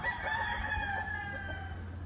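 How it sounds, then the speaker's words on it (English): A young Asil Kelso splash stag rooster crows in one steady, drawn-out call, heard close and fairly quiet with no talk over it. "Beautiful rooster."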